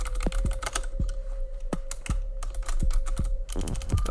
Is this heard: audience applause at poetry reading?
no